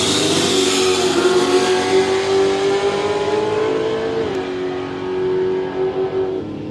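Car accelerating hard down Horsepower Valley at a Quick Street motorsport event, its loud engine revving steadily through a gear change close to the microphone, with continuous roaring exhaust.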